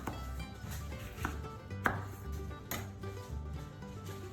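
Two yellow lemons being cut in half with a knife on a board, giving a few soft, close thuds of the blade against the surface, quiet and without talk.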